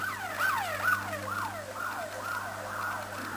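An emergency siren wails in a steady, repeating rise-and-fall pattern, fairly close and clear over a low engine hum.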